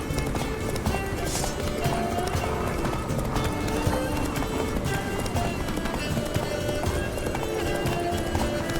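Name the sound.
horse galloping in a video game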